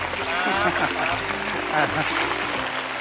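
Water from a small natural waterfall splashes and trickles steadily in the background while someone talks over it at close range.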